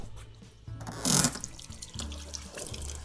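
A bathroom sink faucet runs while someone washes their face, with a steady hiss of water and a louder splashing burst partway through. No voices are heard.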